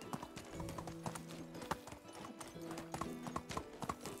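A horse's hooves clip-clop in the medieval village game Medieval Dynasty, a steady, quiet, evenly paced walking rhythm with occasional snorting.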